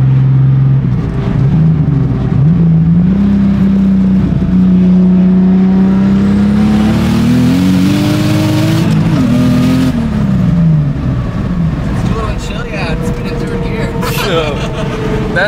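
A turbocharged M54-engined BMW E46 drift car with a Ford 8.8 rear axle swap pulls hard through the gears, its engine drone loud and close and rising in pitch with each gear. A voice talks over it.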